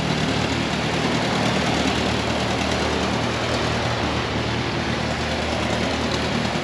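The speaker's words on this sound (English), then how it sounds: "Sputtering and backfiring all the way." A roughly 84-year-old 1940-era training aircraft engine running in a steady, loud, broadband drone with low rumbling tones. The sound stays continuous throughout, no distinct sputters or backfires stand out, and no voices are present.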